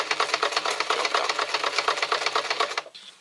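A sewing machine runs fast and steady, stitching another row on a fabric pouch, its rapid rhythmic clatter close and alone before it stops abruptly near the end.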